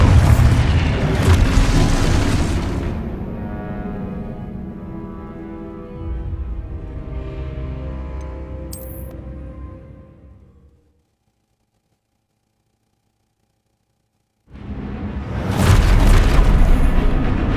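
An Expulso explosion spell detonates in the Hogwarts Legacy video game: a loud, deep boom with a long rumbling decay, a short pause of near silence, then another heavy blast bursts in.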